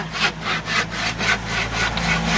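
A hand saw rasps through wood in steady back-and-forth strokes, about nine even pulls, close and continuous.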